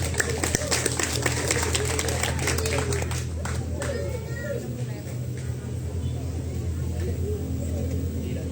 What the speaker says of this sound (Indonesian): tepuk tangan yang meriah untuk Dewan Kesenian Kota Palopo